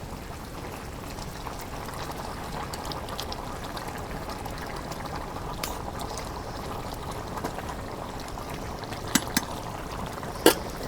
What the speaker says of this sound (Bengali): এই দেখো তরকারির বুলো উঠছে, একটু নাড়াচাড়া করে দিই